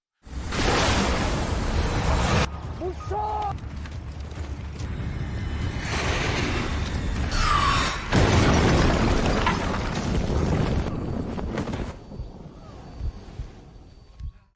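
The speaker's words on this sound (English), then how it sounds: "Brandon and Lukman barely survive the explosion" A loud missile strike explosion booms and rumbles, followed by whooshing debris, crackling and lingering roar that gradually fades out.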